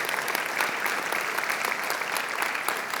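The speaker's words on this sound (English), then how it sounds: "Ladies and gentlemen, can we give them a big round of applause?" An audience at a Google for India event applauds YouTube creators, a dense, even burst of clapping from a crowd heard at moderate distance, with no speech over it.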